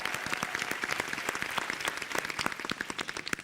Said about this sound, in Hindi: जोरदार तालियां होनी चाहिए डीडी किसान के लिए और देश के किसानों के लिए।